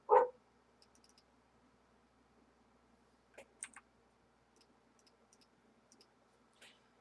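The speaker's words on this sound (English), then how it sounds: "Oh, and there go my dogs." A couple of faint, distant dog barks come in short bursts, mostly quiet in between, with light clicks scattered through.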